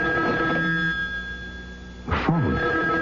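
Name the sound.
telephone ringing in an old radio drama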